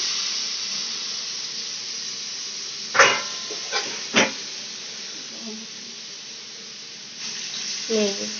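Water poured into a hot pan of prawn curry with potatoes sets off a steady hiss of steam, broken by a few louder splashing bursts as the liquid hits and the pan is handled.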